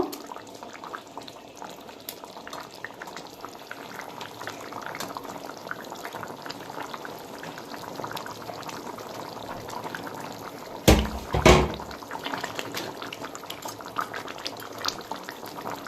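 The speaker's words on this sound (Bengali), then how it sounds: "দেখুন আমি ভাজা মাছটা এর মধ্যে সব দিয়ে দেব" Bhetki fish curry with taro and potato bubbling in a pot, a steady close simmering and bubbling throughout with a brief louder clatter near the end, no talking.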